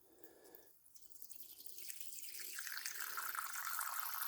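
Water squeezed from a squeeze bottle into a small tarantula water bowl during a Grammostola iheringi rehouse, a soft trickling and dripping that starts faint and grows into a steadier, louder pour near the mic.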